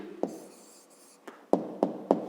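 A pen writes an answer by hand on paper with a soft, steady scratch, broken by a few sharp taps from strokes and dots near the end, close and quiet with no talking.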